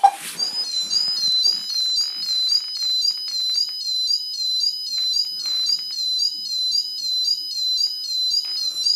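A model railway level crossing warning sounds as a repeating electronic two-tone warble, loud and steady, cycling evenly throughout with a few soft clicks and handling noises near the start.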